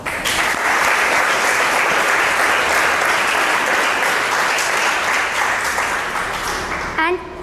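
A classroom of students claps together for a classmate, a dense, even burst of hands lasting several seconds before a voice cuts in at the end.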